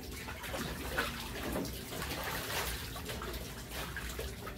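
Water runs steadily from a hose into a washtub at home, a soft continuous splashing trickle that carries on unbroken throughout.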